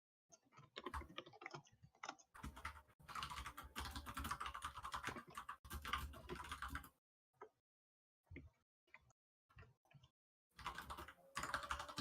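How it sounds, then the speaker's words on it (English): A computer keyboard is typed on in rapid, dense bursts of clicky keystrokes, near and steady, broken by pauses and scattered single taps before another quick run. "Don't send it yet because I'm still fucking typing up"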